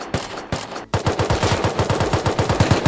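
Automatic gunfire in the Unturned survival game: a couple of single shots, then a sustained rapid burst of loud, close shots in a steady rhythm, with no talk.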